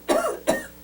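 A single person coughs twice into the elbow, two short, close, muffled bursts with a brief gap between them and nothing else around them.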